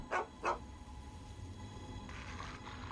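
A dog in the wasteland of Fallout gives two quick, sharp barks close by, then goes quiet over a low steady background hum.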